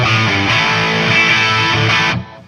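An electric guitar plays through a PT100 amp channel with a dirty, distorted tone and stereo echo delay, giving a dense sustained wash that cuts off sharply at the end.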